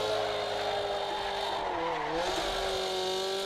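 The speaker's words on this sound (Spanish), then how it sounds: "Frenamos fuerte aquí." A BMW 325i E30 brakes hard in Assetto Corsa on the Nürburgring, its engine droning loudly and steadily as the pitch dips and recovers, with faint tire scrub beneath.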